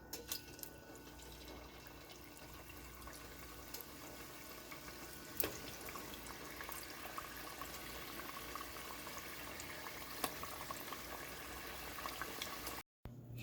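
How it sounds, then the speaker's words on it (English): Cameroon-style fish rolls frying in warm oil, giving a steady, dense crackle and bubbling that runs throughout, with one sharp click partway through and a brief dropout near the end. "I'm just gonna gradually drop my fish roll into the oil for them to fry."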